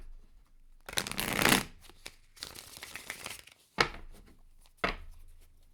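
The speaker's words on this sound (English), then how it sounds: "One last shuffle." Tarot cards shuffled by hand in several bursts of riffling and flicking, close and crisp, with brief quiet gaps between.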